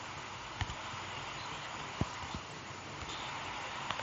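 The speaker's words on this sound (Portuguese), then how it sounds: "Agora tá chovendo muito, hein?" Heavy rain in Minecraft Pocket Edition makes a steady, dense hiss throughout, with a few soft thuds and taps breaking through.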